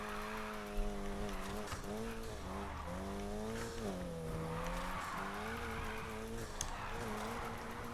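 A car drifts off-road in Need for Speed Heat, its engine revving and whining in wavering pitch while tires slide and squeal continuously, loud and close throughout.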